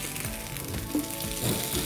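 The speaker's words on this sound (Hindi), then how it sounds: "दूसरी साइड के लिए थोड़ा सा ऑयल डाल देंगे ताकि अच्छा क्रिस्पी हो जाए, और उसे भी स्लो फ्लेम पे पका लेंगे इस साइड पे" Bread dhokla crisping in a little oil in a pan over a slow flame, giving a continuous soft sizzle and crackle, close and steady, with no talking.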